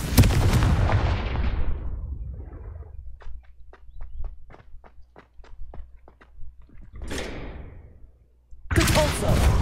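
Spell blasts fire off in a video game, a run of about a dozen sharp, evenly spaced cracks after a stretch of loud noise, with louder bursts and game audio returning at the end.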